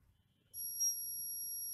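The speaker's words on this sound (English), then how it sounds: "the buzzer is buzzing" A steady high-pitched electronic buzzer tone from an IR remote-control alarm switches on partway through and holds continuously to the end, loud and unbroken over faint low background hum.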